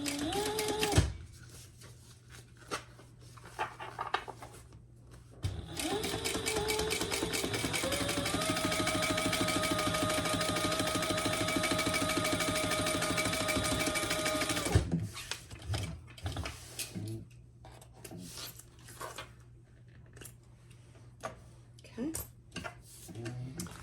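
A sewing machine top stitches through a pouch's lining and exterior, starting with short stitching bursts before a long steady whirring run of about ten seconds, then stopping amid handling noises and brief talk.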